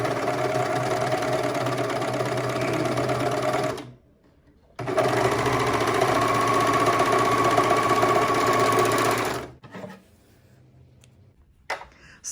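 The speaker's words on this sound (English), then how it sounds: "And now I will stitch other side so you can see the difference" A 2-thread serger stitches a seam in two steady bursts of rapid mechanical whirring with a short pause between, running close and loud, then falling quiet with a few small clicks and handling noises at the end.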